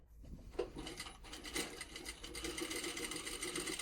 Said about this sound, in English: So now we're just sewing. We have an automatic preset backstitch.